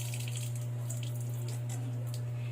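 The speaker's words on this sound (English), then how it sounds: "next is to turn on the water and adjust the force" Water runs steadily from a sink tap turned on for hand washing, a continuous hissing flow over a constant low electrical hum, with no talking.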